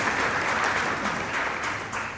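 Audience at a DECA awards luncheon claps steadily, a dense, moderately loud wash of applause that holds for the whole moment and tapers slightly at the end.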